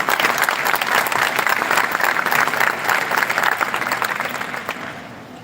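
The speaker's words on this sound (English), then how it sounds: "I'd like to applaud you." An audience at a smartphone launch event in Spain gives a photographer a dense, sustained round of applause that tapers off toward the end.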